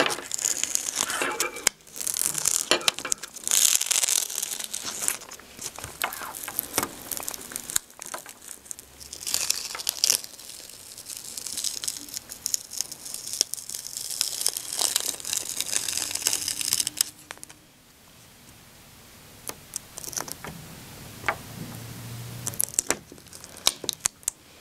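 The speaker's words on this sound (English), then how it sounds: "I'm going to weed away the excess material from the carrier sheet" Excess glitter heat transfer vinyl being weeded off its carrier sheet for a wedding koozie: close crinkling and tearing peels in irregular bursts, crisp and dry, with a quieter scratchy stretch near the end.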